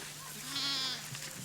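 Sheep or goats grazing marsh riverbank vegetation in Rwanda bleat once in a drawn-out, wavering call that rises mid-clip and fades, heard fairly close over a faint steady outdoor hum, with no talking.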